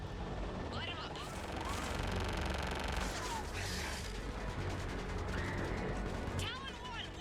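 Dense gunfire and explosive bursts rattle through a battle in Mass Effect Legendary Edition, with chaotic overlapping shots and booms held at a loud, continuous level.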